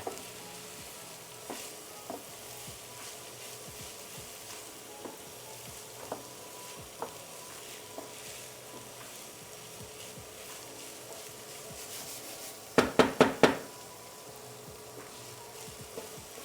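Spelt risotto with leeks sizzles in a pan as it is stirred, a soft steady frying hiss broken by periodic scraping strokes, then a quick burst of louder clacks near the end, with no talk.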